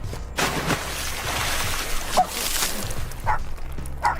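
A dog barks and whimpers near a river during a rescue scene in a children's comedy sketch, with short yips over a steady wash of noisy background sound.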